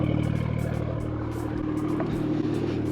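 A tuned BMW B58 engine idles through its exhaust, a low steady rumble with a throbbing, slightly uneven pulse close by, running continuously without revving.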